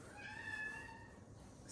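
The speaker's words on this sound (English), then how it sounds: "The kitties, my gosh, they're in there just fighting." Two cats fighting indoors give off faint, drawn-out meowing wails against a soft background hiss.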